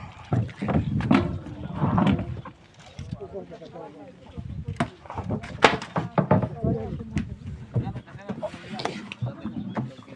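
A boat moves on a river, with irregular knocks, splashes and creaks of the hull and paddling while people talk nearby throughout.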